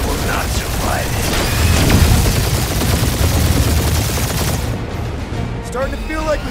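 Sustained gunfire barrage in Marvel's Guardians of the Galaxy, a loud, continuous rattle of weapon fire and mechanical clatter that thins out toward the end, with voices speaking over it.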